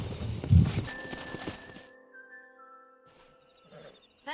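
A stallion in the Red Dead Redemption video game clops and snorts with a few heavy hoof thuds up close, then fades into a quiet stretch with a thin sustained tone and soft shuffling.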